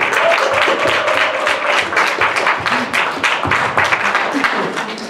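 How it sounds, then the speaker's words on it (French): An audience at a FameLab 2015 science-talk contest in Villeneuve-d'Ascq claps warmly, a steady loud patter of many hands with a few murmured voices beneath. "on applaudit le public sympathique de Villeneuve-d'Ascq"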